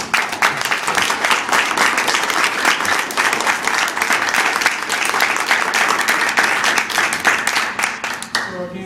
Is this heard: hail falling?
no